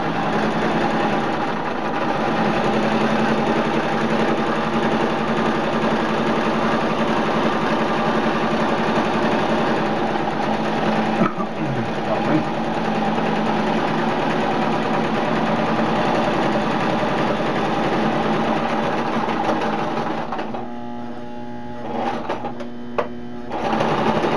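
A sewing machine runs steadily while stitching a DIY hammock ridge line organizer, a loud continuous close-up whir lasting most of the time before briefly faltering near the end.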